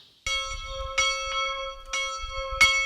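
A single bell rings out in several clear, evenly spaced strokes, each tone ringing on and overlapping the next, close and loud.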